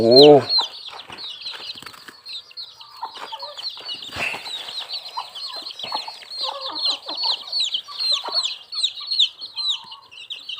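A hen and many chicks fill the air with rapid, high peeping from the chicks and occasional low clucks, all close by, with a louder squawk at the start.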